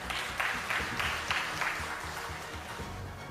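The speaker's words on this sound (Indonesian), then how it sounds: "Kita berikan aplaus" Audience applause at an official inauguration ceremony in Badung, Bali, a brief burst of clapping from a gathered crowd in a reverberant hall, moderately loud and fairly even throughout.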